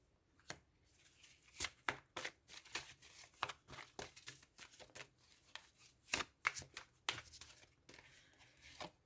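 Tarot cards are shuffled and drawn one at a time, producing sharp papery flicks and riffles in irregular bursts, close and fairly quiet, with no talk over them.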